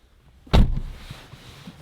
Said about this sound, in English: The classic Porsche thud.